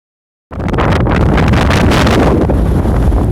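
Strong mountain wind on Mount Chausu in Japan roars into the microphone, a dense, gusty rush that starts abruptly and stays loud and steady to the end.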